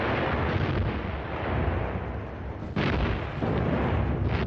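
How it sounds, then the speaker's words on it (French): World War II German artillery pounding enemy positions in the desert campaign: a continuous, heavy rumble of gunfire and blasts, with a sudden louder boom midway, loud and dense with no talk. "Les canons allemands écrasent les positions ennemies."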